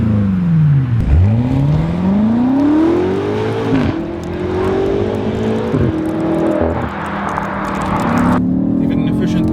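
A BMW F90 M5 super sedan with all-wheel drive accelerates hard, its engine note rising and falling through several gear changes, loud and close throughout.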